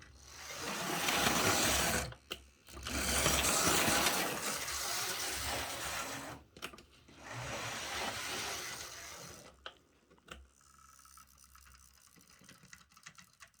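A Hornby Evening Star model steam locomotive runs along its track with a continuous whirring, buzzing motor drone. The sound rises and falls in long stretches, broken by brief pauses, and trails off into quieter clicks at the end.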